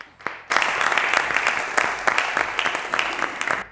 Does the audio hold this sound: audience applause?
yes